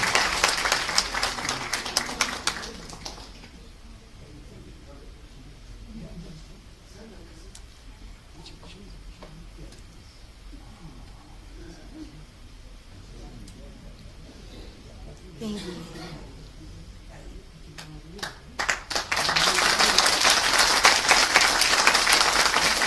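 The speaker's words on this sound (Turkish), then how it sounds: "Onları da bir alkışlayabilir miyiz rica etsin?" Applause from an audience at a Turkish literary magazine's short-story competition award night, loud at the start, then fading to a quieter stretch with someone speaking before a second burst of clapping near the end.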